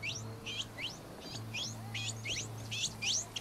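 Bird chirping in the open-world shooter Ghost Recon Wildlands, a rapid series of bright sweeping chirps repeating about a dozen times over a low steady hum.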